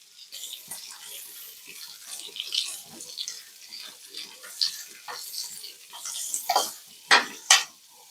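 Sliced onion tossed into hot oil already popping with mustard seeds and curry leaves, giving a bright, hissing sizzle with light stirring clatter and utensil clinks, swelling into two sharp bursts near the end.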